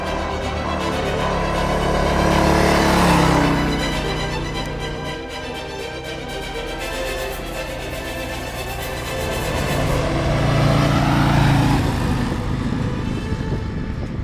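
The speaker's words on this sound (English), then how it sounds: "We are on the new Harley-Davidson Road Glide" A 2024 Harley-Davidson Road Glide 117 motorcycle under way gives a steady engine drone with wind rush, swelling louder twice as the throttle opens, continuous and close throughout.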